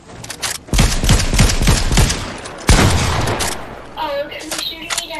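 Rapid shotgun blasts in Fortnite Battle Royale, a dense run of loud sharp bangs for a few seconds, then a pause and a few more shots, with a player talking over the fire near the end.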